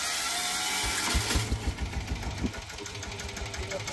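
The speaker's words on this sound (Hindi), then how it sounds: "आप देख सकते हैं ये है इसका इंजन।" A Sanedo four-wheel mini tractor engine runs steadily nearby with a rough, knocking idle that pulses rhythmically throughout.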